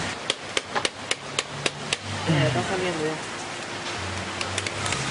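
Sharp, evenly spaced metal hammer strikes on a bicycle under repair ring out at close range during heavy rain, then stop, followed by a faint voice and a few more scattered taps.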